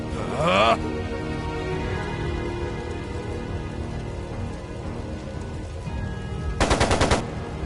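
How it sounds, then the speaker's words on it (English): Machine gun fire in the game Trails of Cold Steel II, rapid bursts at the start and again near the end, set against a dense rumbling, rain-like background of battle noise and music. "It sounded like a machine gun."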